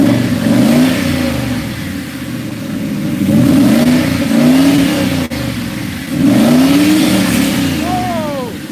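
A project car's engine revs up repeatedly in several rising surges, loud and close, with a rough mechanical tone and voices talking in the background.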